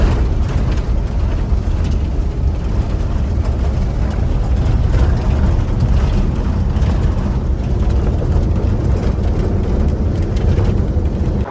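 A Chevy Silverado Z71 truck cruises down a dirt road in the Ozarks, its engine a loud, steady low rumble mixed with continuous rolling road noise and no break throughout.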